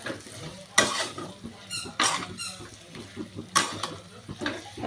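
A spoon stirs roasted masala for an eggplant curry in a pan, giving a few distinct scraping strokes with soft sizzling between them, close and moderately loud, with no voices.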